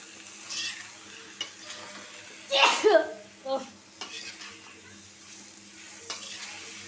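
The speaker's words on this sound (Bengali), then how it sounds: "আমি এই যে জালি কুমড়াটা দিয়ে দিব মশলার সাথে মিশাবো" A spoon scrapes and turns pumpkin through cooked spice paste in a pan, producing a few soft stirring scrapes and a gentle low sizzle, with occasional quiet speech in the background.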